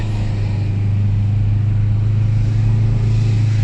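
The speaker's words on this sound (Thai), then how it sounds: "ฟังเสียงคลางของเอนจินเบรกนะ" Car engine braking down a long, steep mountain road at Doi Chang during a festival, a steady, loud, low engine drone holding constant throughout with no talking.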